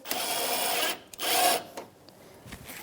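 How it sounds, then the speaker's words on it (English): A power driver with a 10 mm socket snugs headlight screws on a 2013-2018 Toyota RAV4, two close whirring bursts of about a second and half a second followed by faint clicks and handling noise. "Starting by hand, snug them up, 10 millimeter socket."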